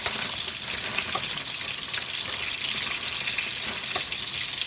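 A few sausages fry in a pan at home, giving a steady, close crackling sizzle with scattered pops and no voices.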